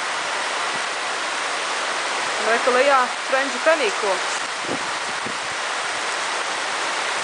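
Heavy rain pours down in Brisbane as a dense, steady hiss that fills the whole stretch, with a person speaking briefly over it partway through.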